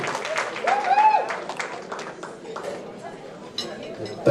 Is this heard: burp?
no